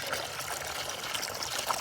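Water pours steadily for watering plants, a continuous close hiss and trickle with no break, alone and moderately loud.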